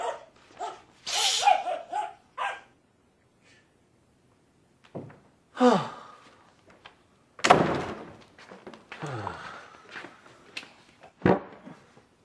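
A dog barks in scattered bursts, some loud and close, with quiet pauses between and a door-like bang mixed in.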